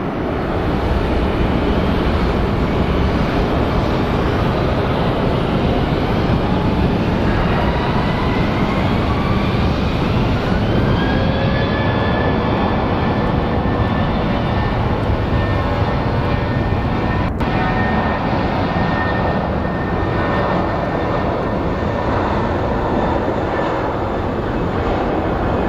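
A United airliner in Evo Blue livery at Phoenix Sky Harbor International Airport roars steadily and loudly, with a high turbine whine rising partway through and then holding over the continuous engine rumble.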